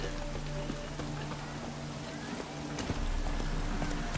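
Roach the horse's hooves clip-clop in a steady walking rhythm through The Witcher 3, a continuous close patter of hoofbeats under a dense, grainy game ambience.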